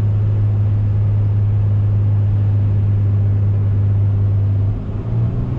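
A 2017 RAM 3500 Cummins diesel pickup towing about 30,000 lbs, its engine holding a loud, steady low drone that dips and changes pitch near the end as it downshifts into fourth.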